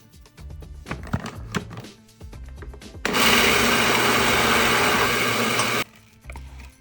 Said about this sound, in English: In the food processor, we're going to blend the dates and the walnuts until they form a nice sticky dough.